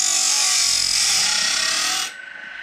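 Sawmill blade sharpened on a Woodland Mills Grindlux 4000, an 8-degree blade, cuts through pine wood with a loud, steady buzzing rasp that stops abruptly near the end, leaving quieter residual noise.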